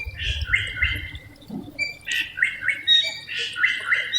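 Repeated whistled and squawking phrases from an oriental magpie-robin ring out in a home garden, arriving in short bursts separated by brief pauses, with a faint low thud partway through.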